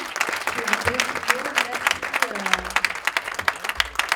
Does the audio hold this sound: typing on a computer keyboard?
no